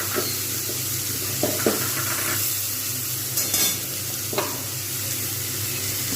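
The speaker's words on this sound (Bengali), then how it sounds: "সেটাকে আমি সুন্দরভাবে ভালো করে ভেজে নেবো" Washed moong dal fries in a pan while being stirred, making a constant hissing sizzle with occasional scrapes of the spoon, close by and with no talk.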